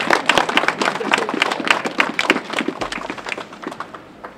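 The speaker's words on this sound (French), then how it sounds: "Je voudrais bien qu'on puisse les applaudir s'il vous plaît" An audience at a gathering against demolishing the Saint-Joseph chapel in Le Mans claps in brisk, uneven bursts of applause that gradually thin and fade over a few seconds.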